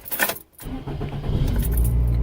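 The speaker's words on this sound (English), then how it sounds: "let's start up the car." Car being started, with keys jangling at first, a brief pause, then the engine turning over and settling into a steady, close idle rumble that holds to the end.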